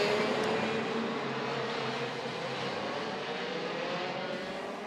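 Racing karts in a WSK Champions Cup OK prefinal at South Garda Karting, a steady blended drone of high-revving engines sweeping past at moderate distance, continuous and fairly loud with no talk.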